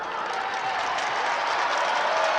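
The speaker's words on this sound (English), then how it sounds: "Now you get the general joining in of clapping and applause" Crowd clapping and applause at a judo Grand Slam match in Tbilisi, a dense steady wash of many hands applauding throughout, fairly loud and continuous with no clear talk.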